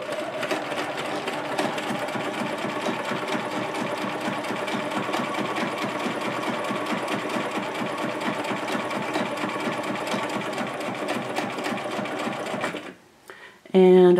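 A Bernina 1080 sewing machine stitches a buttonhole with a fast, steady mechanical whirr and rapid needle clatter that runs for about thirteen seconds, then stops abruptly, followed by a brief sound at the very end.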